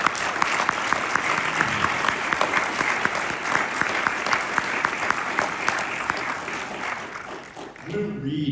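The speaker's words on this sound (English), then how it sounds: "Another round of applause for her." Sustained audience applause fills a military command sergeant major's retirement ceremony, steady and dense for several seconds before tapering off near the end.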